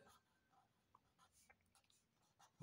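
Marker or chalk strokes on a board during a maths lesson, heard as faint, sparse scratches and taps spread through an otherwise quiet stretch with no talking.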